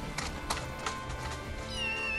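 A cat meows in the video game Final Fantasy VII Rebirth, in the Nibel region: a few faint, short mews over steady background game music and ambience.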